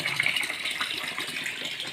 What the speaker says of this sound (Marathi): असंच पाणी सांडतंय सारखं इकडं तिकडं